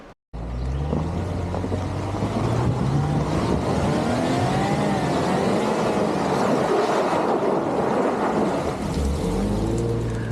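D2 machine engine running steadily outdoors, a loud close low rumble with a throbbing drone that holds for about ten seconds after a brief silence at the start.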